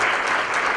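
Audience at an insurance conference on catastrophe claims management applauding, a dense, steady burst of clapping from a sizable crowd filling the whole moment.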